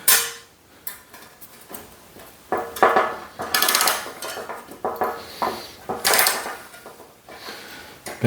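A metal wire coat hanger being bent around a 32 millimeter socket makes a string of sharp metallic clinks and scraping knocks, coming in irregular bursts close up, with no talking.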